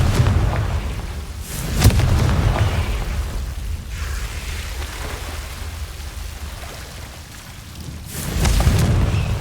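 Confringo fire spells burst in Hogwarts Legacy, two heavy booming blasts several seconds apart over a continuous loud, crackling rumble, like rain.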